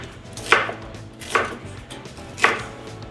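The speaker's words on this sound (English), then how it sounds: "So we're just gonna cut it into nice slices." A kitchen knife slices an onion on a cutting board for meatballs, three distinct close chopping strikes spaced about a second apart, with no one speaking.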